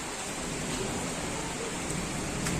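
Steady rain falls with an even, dense hiss that continues throughout, with no voices over it.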